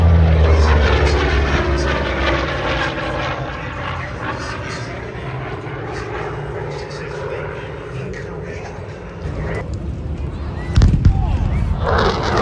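A WWII-era naval propeller fighter plane flies at the Avalon Airshow, its engine drone sweeping past loud and close, then fading into the distance before a brief sharp burst near the end; people talk nearby.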